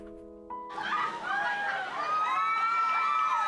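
Millard West cheer squad cheering at a pregame event for Millard South at Millard West football, a crowd's shouts and cheers swelling in after a brief lull and holding loud and steady to the end.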